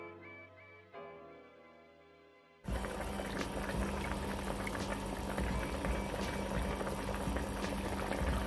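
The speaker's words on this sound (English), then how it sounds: "See, everything does a bubble." Jamaican-style curried cow foot bubbling in a pot: after a quiet start, a loud, continuous boiling rush sets in and carries on steadily to the end.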